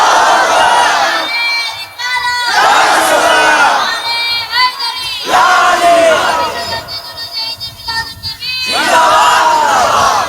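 A large crowd at an Islamic religious gathering in Bangladesh roars the takbir chant in unison, four loud, drawn-out collective shouts rising and falling with brief pauses between them.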